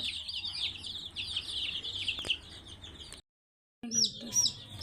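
Young desi chicks chirp and peep continuously at close range, a high busy chorus that cuts out briefly before resuming.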